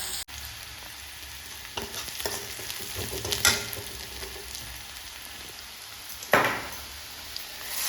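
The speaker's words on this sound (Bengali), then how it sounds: "ভালো করে নাড়াচাড়া করে কাঁচা গন্ধটা চলে যায় যাতে ভালো করে কষিয়ে নেব" A spice paste fries in a pan for fish curry as a spoon stirs it, producing a close, steady sizzle with scraping strokes and a sharp clatter near the end, with no talking.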